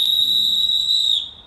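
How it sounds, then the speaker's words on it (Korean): A referee's whistle gives one sustained shrill blast lasting over a second before cutting off, loud and close with no other sound around it. "호루라기 소리가"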